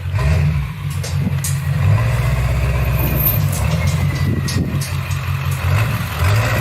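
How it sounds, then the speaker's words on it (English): A heavy truck engine rumbles steadily and loudly at close range, a deep low throb that holds throughout with slight surges. "That truck is so powerful."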